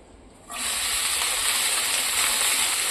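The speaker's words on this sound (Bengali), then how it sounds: "কড়াইতে তেল দিয়ে দিয়েছি, সর্ষের তেল দিয়েছি, তারপর শুকনো লঙ্কা আর 5 ফোড়ন দিয়েছি" Dried chilli and panch phoron hitting hot mustard oil in a wok, a sudden loud steady sizzle that starts after a quiet half second and holds at full strength, close by.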